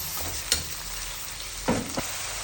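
Beef frying with sautéed onions in a pot for biryani makes a soft, steady sizzle, broken by a couple of brief scraping stirs or clinks, fairly quiet throughout.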